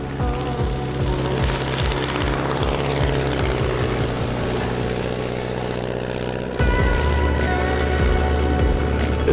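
A German WWII trainer propeller aircraft in flight over Sweden, heard from inside as a loud, steady engine drone with rhythmic propeller beating that shifts in pitch and swells louder near the end, with no talking.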